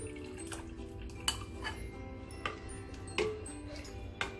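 A spoon stirs ground mint into a strained raw mango and mint sharbat in a bowl, giving light scraping and several sharp clinks against the bowl at irregular intervals over a quiet background.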